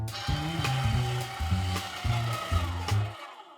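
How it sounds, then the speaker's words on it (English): A meat grinder churns pork in short rhythmic bursts, a motorized whir pulsing about every half second at close range before stopping abruptly. "So you gotta grind your own meat."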